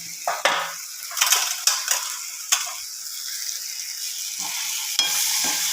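Boiled elephant foot yam, salted and turned with turmeric, is stirred into sizzling masala in a pan, producing repeated sharp scraping strokes of a spoon over a steady frying hiss.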